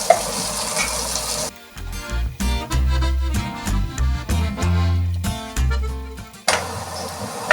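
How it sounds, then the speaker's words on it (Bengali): Carrots and other vegetables fry with a little salt in a pan: loud sizzling at the start and end, with heavier rhythmic clanking and stirring in between, and no voices. "সবজিগুলো সব এইভাবেই আমি ভেজে নেব।"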